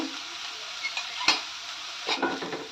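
Chopped onions frying with salt in a pan for egg fried rice, a steady close sizzle with a sharp spatula tap and a few scraping stirs near the end, no talk.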